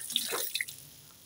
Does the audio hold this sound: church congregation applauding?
no